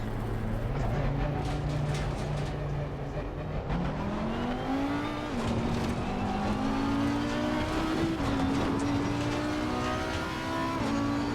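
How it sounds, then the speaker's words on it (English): An Audi race car laps Alton Park in a sim racing game, its engine droning and climbing in pitch through several gear changes, with brief drops at each shift, loud and continuous throughout. "let's do a lap in the Audi around Alton Park"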